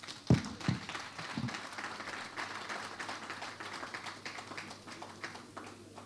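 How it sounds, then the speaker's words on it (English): An audience at a live presentation claps for a speaker. The applause is faint and distant, a dense patter of many hands that holds steady throughout, with a couple of louder claps near the start. "Please, let's give him another round of applause."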